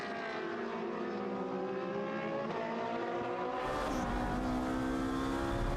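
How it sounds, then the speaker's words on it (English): Race cars at the Valencia circuit during a Trofeo Pirelli race roar past, several engines droning and shifting pitch together, loud and close, with a sharp surge near the end as a car accelerates by. "So there is David Gosner in the number 50 car."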